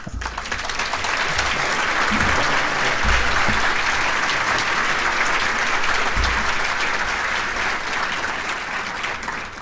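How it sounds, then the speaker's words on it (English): Sustained applause from a luncheon audience honoring Les, a dense steady wash of clapping holding strong for nearly ten seconds, with a few low thumps beneath it. "I would ask you to join me in another round of applause for Les"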